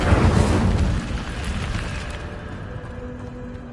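A fiery Incendio spell cast in the Hogwarts Legacy game bursts loudly at the start with a roaring whoosh, then trails off into a lingering crackling rumble, with no one talking.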